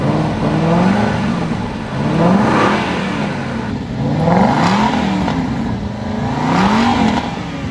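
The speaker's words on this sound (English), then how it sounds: "Okay, so this is how the Aston Martin sounds" An Aston Martin V8 Vantage 4.7L in standard mode revs repeatedly, each throttle blip swelling into a rising growl and falling back, with a steady mid-pitched engine drone between the pulses.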